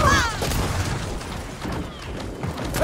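Gunfire in the video game Sgt Rock, dense and loud with bursts of shots and booming impacts running throughout, mixed with game effects and excited voices talking over the action.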